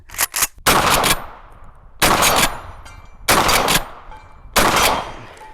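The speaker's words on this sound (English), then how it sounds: "That's the Benelli M3 Super 90 Combat." Benelli M3 Super 90 Combat shotgun with ghost ring sights firing heavier rifled slug loads: a few quick blasts at the start, then three more loud, booming shots spaced roughly a second apart, each with a ringing decay, with no talk.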